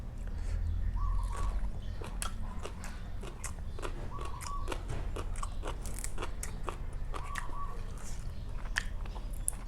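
Someone eats grilled catfish with new sticky rice and green papaya salad, giving close, crisp crunching bites and chewing that repeat steadily and loudly throughout.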